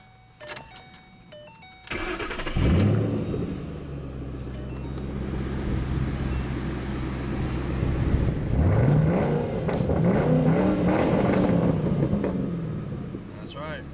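A 2010 Ford Mustang GT engine cranks and starts, then idles with a low rumble before being revved up and down several times, close by, with a voice briefly audible.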